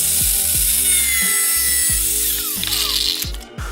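A hand saw cuts through a plastic front trim piece of a center console in quick, loud, rhythmic strokes, a close rasping run that ends abruptly.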